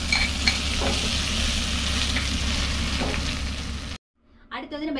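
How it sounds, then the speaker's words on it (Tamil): Loud, steady sizzling as hot tempering oil is poured into carrot chutney for several seconds, then it cuts off abruptly and a voice briefly speaks. "இப்போ தாளிப்பை கொட்டி எடுத்துக்கலாம் சட்னியை"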